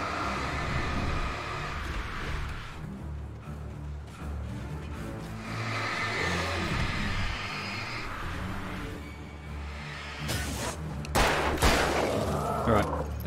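Gunfire from the Alan Wake video game, a sustained run of shots over a dense backdrop of game sound, with sharper bursts near the end and some talking underneath.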